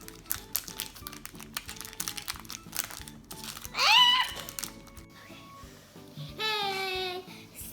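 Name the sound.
plastic bag being torn open by hand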